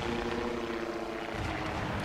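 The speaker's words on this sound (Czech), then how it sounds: "Slyšíte taky ten šílený zvuk toho spotovacího letadla." A spotter plane's engine drones steadily in World of Warships, a continuous buzzing propeller tone that holds level throughout.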